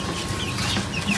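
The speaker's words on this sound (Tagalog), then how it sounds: "nagugulat yung manok eh" A startled chicken clucks close by, short agitated calls bunched within about a second against a noisy outdoor background.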